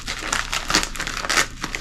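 A package is opened up close, its paper crinkling and rustling in quick, uneven bursts for about two seconds, with no voices.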